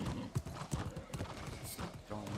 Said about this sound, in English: I can actually go on my horse here.